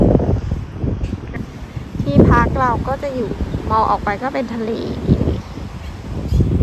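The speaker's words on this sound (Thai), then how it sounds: "ลมแรงเชียว" Strong sea wind at a beach villa in Rayong buffets the microphone with a low, gusty rumble, heard throughout beneath close, continuous talking.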